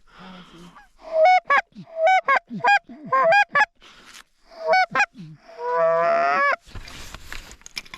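A run of loud, close goose honks in quick repeated bursts during a Montana goose hunt, ending in a drawn-out honking call and a brief rustle.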